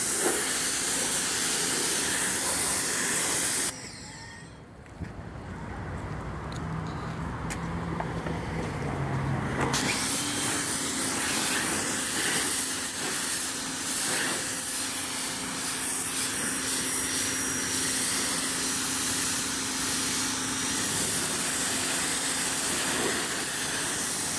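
A pressure washer with a foam cannon sprays during a car wash: a loud, steady, close hiss that drops away for several seconds, then resumes and runs continuously to the end, with no talking.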